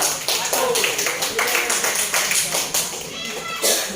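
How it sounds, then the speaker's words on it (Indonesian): Students in a classroom clap together for a presenting group, a dense, sustained burst of many hands, close and fairly loud, with children's voices mixed in. "mari kita tepuk tangan untuk kelompok 1"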